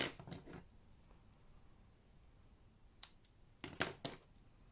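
Scissors cut a piece of cardstock in half. There are a few short, quiet snips near the start, then a cluster of crisp cutting strokes toward the end, with no voices.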